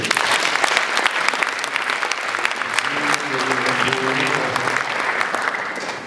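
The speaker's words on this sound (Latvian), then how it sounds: "Aplausus viņiem." Sustained audience applause at a poetry slam event, dense rapid clapping from a large crowd filling the room steadily for several seconds, with faint voices murmuring underneath.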